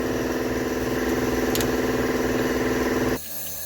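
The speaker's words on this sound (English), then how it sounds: "I know the compressor's going off in the background" Air compressor running steadily and loudly in a garage shop, a continuous engine-like motorized drone with rhythmic pulsing that cuts off abruptly near the end, leaving a quieter hum.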